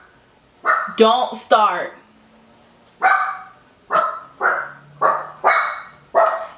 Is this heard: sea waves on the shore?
no